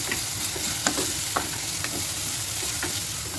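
Green chilies and shallots frying in oil in a pan for Kerala fish curry, a loud steady sizzle with repeated spoon strokes scraping through, close up and without speech.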